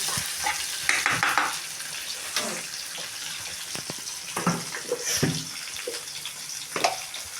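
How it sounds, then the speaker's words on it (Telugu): Cumin seeds crackle and sizzle in a hot pan, with a loud steady hiss and repeated scraping knocks from a spoon stirring them nearby. "జీలకర్ర అయితే కొంచెం వేస్తున్నానండి"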